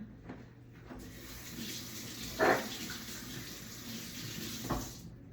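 Water runs from a kitchen tap while hands are rinsed during cookie baking, a quiet, steady splashing hiss with a few brief louder splashes.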